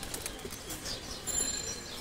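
Tournament racing pigeons make soft, low coos and a brief rustle of wings, faint and close, over a steady background hum, with no one talking.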